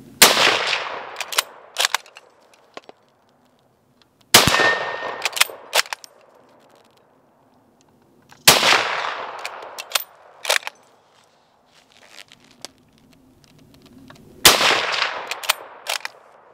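Ishapore 2A rifle shots ring out against steel targets at an outdoor range, four sharp reports spaced several seconds apart, each trailed by metallic pings and a decaying echo.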